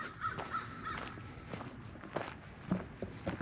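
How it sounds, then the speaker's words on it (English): A crow caws a few times at a distance on a lakeside nature trail in upstate South Carolina, mixed with nearby footsteps on a dirt path and no talk. "I hear Mr. Crow."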